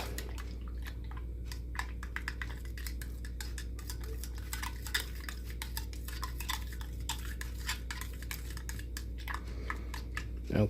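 Rapid, repeated ticking and clinking of a utensil stirring a mixture in a container for a Star Trek snowglobe water change, close and steady for about ten seconds.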